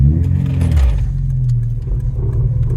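Inside an EP3 Honda Civic Type R with a limited-slip differential, a loud low engine drone and drivetrain rumble fill the cabin, with faint clicks and rattles over it.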